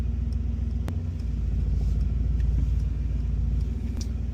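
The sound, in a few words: Mercedes-Benz AMG GT55 Coupe exhaust burbling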